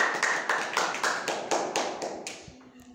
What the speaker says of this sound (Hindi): रूपा के लिए ताली बजाइए